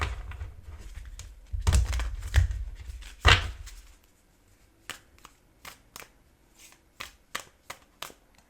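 Tarot-style cards are riffled and shuffled close up in a few loud bursts, followed by a series of soft, evenly spaced taps and flicks as the deck is handled before a card is drawn.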